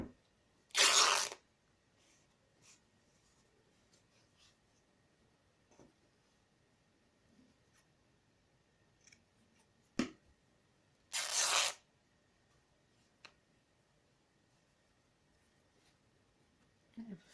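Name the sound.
tearing fabric into pieces by hand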